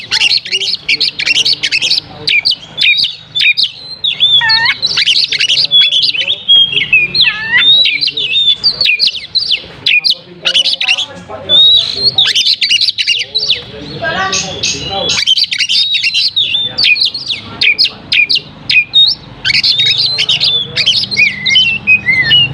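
A kacer, or oriental magpie-robin, singing loud and close in a long run of shrill whistles, chirps and harsh squawks with short pauses, and a voice speaks now and then under the song.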